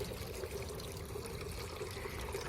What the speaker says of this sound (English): I set up the water fountain.